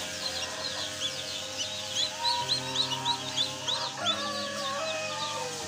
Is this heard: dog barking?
no